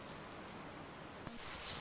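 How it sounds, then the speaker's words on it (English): Steady rain falling on open country beside the Irwin River, a constant soft hiss of drops on the ground with one brief tap near the end, heard alone. "The birds use the rain to clean themselves and show off."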